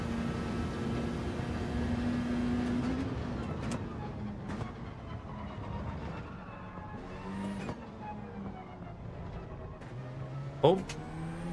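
A race car in Gran Turismo 7 hums with a fairly quiet engine note that holds steady, then climbs in pitch as it revs, with a short sharp knock near the end.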